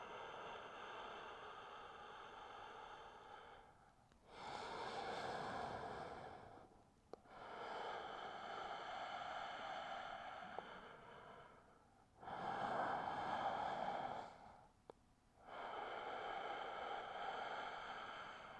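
Deep, slow yoga breaths come close and quiet: long airy inhales and exhales in an even rhythm, each lasting a few seconds, separated by brief pauses, with no talking.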